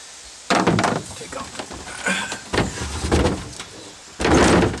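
A spare tire is pulled out of a car's trunk, giving several close thuds and scraping bumps of rubber against the trunk floor, with brief shuffling between them.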